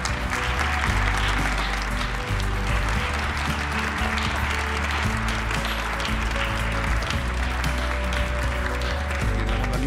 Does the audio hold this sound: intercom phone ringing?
no